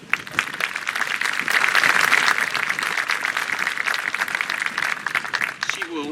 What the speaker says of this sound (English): I think that deserves a special round of applause.